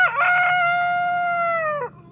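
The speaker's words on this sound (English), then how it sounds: "He crows all day, y'all" A rooster named Danny lets out one loud, close crow, a long sustained harmonic call that drops off sharply at the end, with no talk over it.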